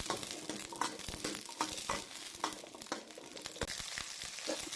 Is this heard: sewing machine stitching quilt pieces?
no